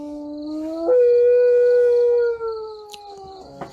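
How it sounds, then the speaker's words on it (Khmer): A dog lets out one long, loud, close howl lasting over a second, which rises and then fades, followed by a few faint distant sounds. "លឺសំឡេងលូសំឡេងស្រែកឆ្កែ"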